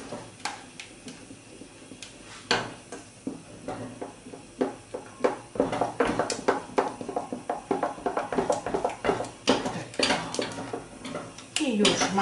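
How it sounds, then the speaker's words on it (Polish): A spoon stirs butter energetically into hot, cooking pudding in a pot, making busy clattering scrapes and knocks against the metal that quicken and grow louder over time, with brief talk in Polish mixed in. "Musimy dosyć energicznie mieszać, ponieważ mamy masło tutaj"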